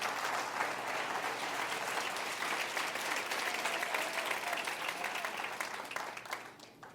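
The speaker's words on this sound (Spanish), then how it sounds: "Ahora sí pueden aplaudir los jóvenes." A church congregation applauds young people in a sustained wave of clapping from many hands, dense and even, filling the room before thinning slightly at the end.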